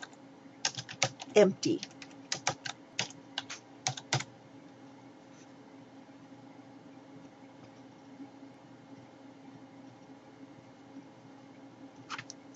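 A burst of quick, clicky computer keyboard typing runs for a few seconds, close and fairly quiet, then stops and leaves near silence with a faint hum and one last click at the end. A voice says a single word.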